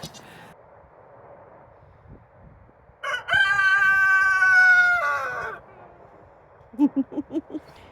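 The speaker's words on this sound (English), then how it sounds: "that's our new rooster" A young barnyard-mix rooster about eight months old crows once, a loud drawn-out call in the middle of a quiet yard, followed by a short series of clucking squawks; faint background noise sits underneath.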